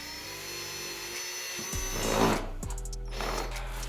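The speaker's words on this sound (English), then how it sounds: "then we'll do our step up, like Christmas tree drill bit," A power drill with a stepped, Christmas-tree-style bit bores a 3/4 inch hole into a front bumper, its motor whirring steadily and rising in pitch as it cuts, loud and close.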